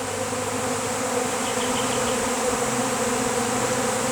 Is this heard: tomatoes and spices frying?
no